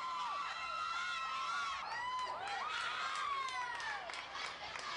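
A large crowd at a college gymnastics championship arena cheers and shouts continuously, with children's high-pitched yells and whoops layered over a steady roar that stays loud throughout.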